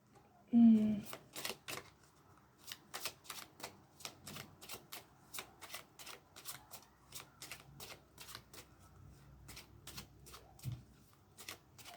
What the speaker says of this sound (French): Je vais tirer 2 cartes des rêves enchantés de le Normand.